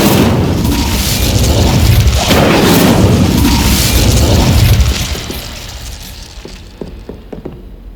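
Incendio fire spell cast in Hogwarts Legacy, a loud, sustained fiery roar and burst that holds for several seconds before dropping away into fainter crackles and small impacts.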